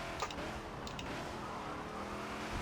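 Ford Falcon XB in Forza dropping a gear under braking at Watkins Glen, a steady engine drone with brief bursts of higher revs, near and continuous with no talk.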